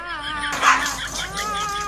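A house dog yips and whines in short, high, tonal cries with one louder bark-like burst, close and fairly clear.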